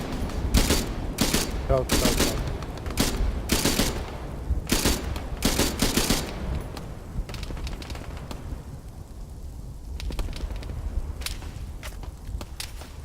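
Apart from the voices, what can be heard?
gunfire in a Vietnam mil-sim video game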